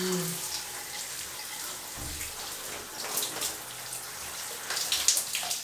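A steady, soft hiss of running water rinses through hair, close and continuous, with a few brief splashy bursts toward the end.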